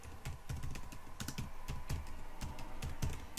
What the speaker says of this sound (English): A bit slow at typing